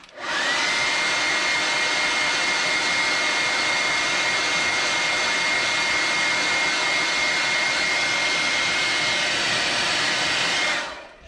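A blow dryer dries airbrushed paint on a crankbait fishing lure, a steady, loud whooshing roar with a faint whine that runs unbroken for about ten seconds before switching off.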